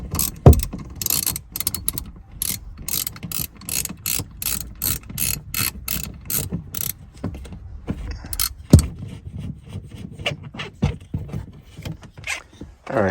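An Allen key is worked on a shock bracket of a 2007 Porsche 997 Turbo, giving a close, rhythmic ratcheting click in quick bursts with short pauses, loud and dry throughout.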